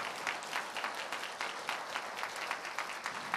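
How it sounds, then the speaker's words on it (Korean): Audience applause at a graduation ceremony, a steady wash of many hands clapping continuously and evenly, close and full, with no voices standing out. "여러분들 큰 박수로 축복해 주시기 바랍니다."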